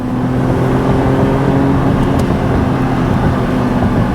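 A car's engine pulls hard at full throttle, a loud sustained low roar heard from inside the cabin with a steady droning tone and no speech.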